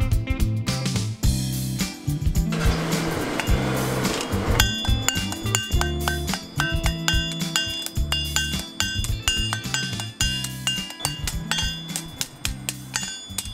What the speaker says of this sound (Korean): 또 한쪽에서는 탕탕탕탕 쇠망치 소리가 울려